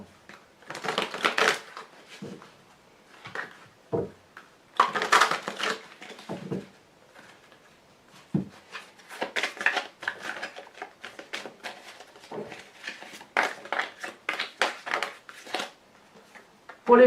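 Tarot and oracle cards being shuffled and drawn, giving bursts of papery riffling and flicking with short pauses between, close and fairly quiet.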